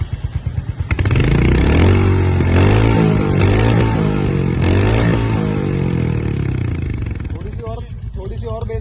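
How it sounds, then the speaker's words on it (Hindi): A Royal Enfield Hunter 350 Factory Black motorcycle idles and revs nearby, its exhaust note a loud, thumping single-cylinder beat that rises and falls over several throttle blips, with people talking over it. "सुनिए भाई, एग्जॉस्ट नोट भी सुन लो।"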